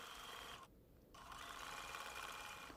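A sewing machine stitching raw edge appliqué letters onto a quilt, running in a steady close hum that pauses briefly, then resumes with no talk.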